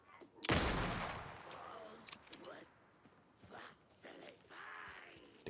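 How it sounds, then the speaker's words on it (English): In the video game Alan Wake 2, a hunting rifle goes off in one loud, sharp blast with a long decaying tail, then fainter clicks and in-game sounds follow, with speech nearby. "Let's try out the hunting rifle."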